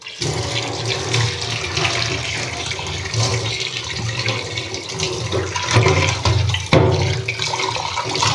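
Tap water runs steadily into a sink while vegetables for a pointed gourd and potato curry are washed, a continuous splashing flow with small clatters and shifts, close by.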